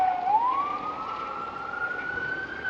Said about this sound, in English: Now it sounds like an ambulance is somewhere up there, just about gonna show itself.